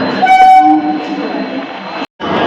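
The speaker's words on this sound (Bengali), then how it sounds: "ট্রেন এসে গেছে।" Local train pulling into Santragachi station platform, a loud horn blast over rumbling rail noise, cut by a brief gap before the rumble resumes.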